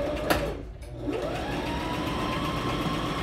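A sewing machine runs steadily, stitching a facing at an eighth-inch seam during a live sewing class; a continuous mid-pitched motor hum holds throughout after a brief pause near the start.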